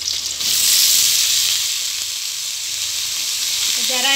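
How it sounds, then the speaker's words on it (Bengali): Potato slices hit hot oil in a pan already holding fried onion and chopped green chilli, setting off a loud, steady, close sizzle that swells after the first half-second and hisses on evenly with no talking. "এখন আমি আলুটা দিয়ে দিচ্ছি।"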